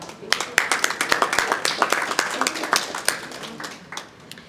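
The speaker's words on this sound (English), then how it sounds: "A round of applause for Monica." Crowd applause at an investment summit panel discussion, a dense patter of many hands clapping that swells and then tapers off toward the end.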